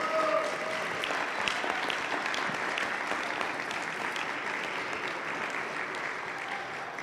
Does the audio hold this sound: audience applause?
yes